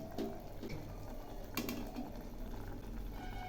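Diced raw jackfruit simmers in a pot of water for a chickpea lentil dish, giving a steady close bubbling and hissing with a few faint clinks and no talking.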